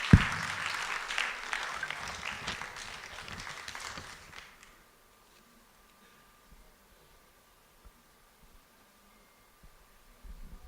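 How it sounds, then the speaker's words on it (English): A crowd at a Playback Nigeria state event in Maru-a-pula claps as a Plan International speaker heads to the stage, loud and scattered at first, then thinning out and fading to near silence after about four seconds. "Let's give him a round of applause as he makes his way to the stage"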